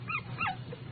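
A puppy gives two short high whimpering yips close by, followed by a faint softer whine, over a low steady hum.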